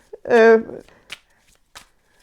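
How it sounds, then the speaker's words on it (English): A deck of tarot cards shuffled during a card reading, giving a brief loud riffling burst near the start followed by a few faint, scattered card taps and rustles. "I'm gonna shuffle some of these donkey cards"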